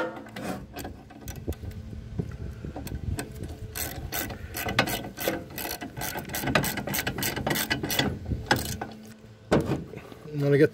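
A ratchet wrench tightens new hardware on a rebuilt snow blower mule drive pulley for a Case Ingersoll tractor, clicking in irregular bursts of pawl ratcheting with metallic clunks, close up and alone.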